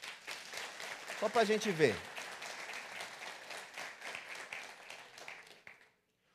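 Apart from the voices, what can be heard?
audience clapping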